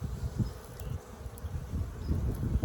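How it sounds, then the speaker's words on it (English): Honeybees swarming over a frame during a beehive inspection, a close, fluctuating buzz with low droning pulses and swells from many insects, no voices. "Because there are so many bees on it"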